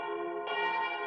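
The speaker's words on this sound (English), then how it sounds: "Right as he's about to say something, the bells happen." Church bells ringing in the 1976 film The Omen, a sustained resonant bell tone with a second strike layering in halfway through this brief moment, heard alone.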